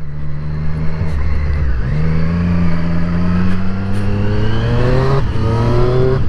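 A 2020 Triumph Street Triple RS motorcycle engine pulls hard through the gears, its loud, steady drone rising in pitch and then dropping at each upshift. It is heard up close while riding, with no talk.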